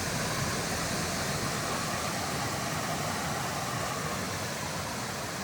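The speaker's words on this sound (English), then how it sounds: "River crossing here." A river at a trail crossing on the Pacific Crest Trail in a forested area, a steady, loud, full rush of water filling the whole stretch without a break.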